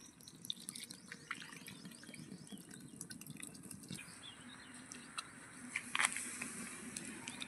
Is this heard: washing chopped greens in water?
yes